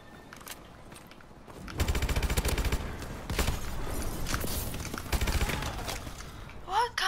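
Machine gun fire in the shooter game Call of Duty: Advanced Warfare: loud, rapid automatic bursts in repeated strings, close and dominant, with players' voices mixed in.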